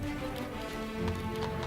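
Horses' hooves clip-clopping at a steady pace, soft repeated knocks under a faint sustained musical tone, fairly quiet and somewhat distant, no talking.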